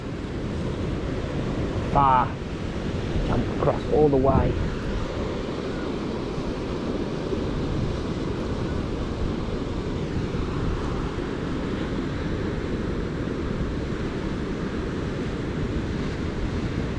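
Ocean waves surge and wash continuously at Uvongo beach, with wind noise over them, while a few brief voices speak early on.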